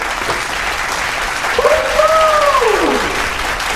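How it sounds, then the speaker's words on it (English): Children cheer loudly at a vacation Bible school, a dense, steady roar of crowd noise with a sliding whoop-like voice rising through it midway. "Are you guys cheering for me?"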